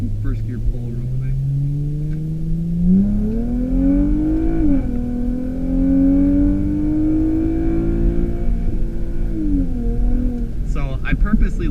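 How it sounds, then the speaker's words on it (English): An Infiniti G35 sedan with a 3.7 and LSD differential accelerates hard in first gear toward redline, engine note rising loud and close from low rumble to a high wail, then backing off; speech briefly near the end. "So we're going to do a first gear pull real quick."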